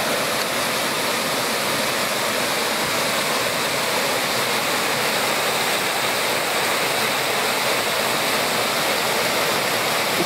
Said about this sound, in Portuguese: E agora aqui embaixo, cachoeira.